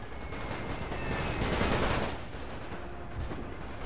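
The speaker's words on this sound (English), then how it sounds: "just keep firing!" Massed musket gunfire from a battle in the Napoleon Total War video game, with The Great War mod, heard as a dense, continuous crackle of volleys rolling on throughout, loud and unbroken.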